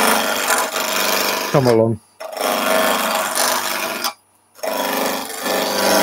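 A woodturning gouge cuts shavings from a piece of wood spinning on a lathe, sweeping toward the headstock end. Steady rasping cuts fill most of the stretch and break off twice into brief pauses, with a short spoken phrase over the noise.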